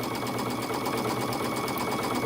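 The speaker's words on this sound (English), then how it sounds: "So I'm just going to sew on both sides of those lines." A sewing machine stitches quilt half square triangles, a steady fast close hum with a regular needle rhythm throughout and no voices.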